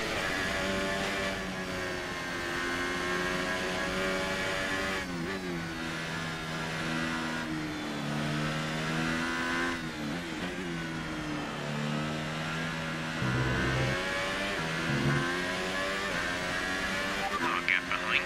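A Formula 1 race car engine in a racing video game at the Chinese Grand Prix, droning steadily and rising and falling in pitch through gear changes and throttle lifts across the lap, with a voice talking over it.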